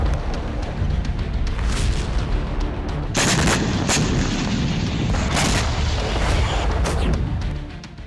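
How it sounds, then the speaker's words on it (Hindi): Explosive strikes hit an American M1 Abrams tank in combat, a dense, loud barrage of booming blasts and sharp cracks rolling continuously with no pause or voices. "अमेरिकी M1 अब्राम्स टैंक बारूदी प्रहार से नेस्तनाबूद।"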